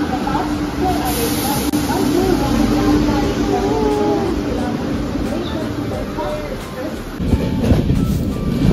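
Siddheshwar Express train rolling out of Thane in heavy rain, a steady close rumble of the carriage with wind buffeting throughout and a slight swell near the end.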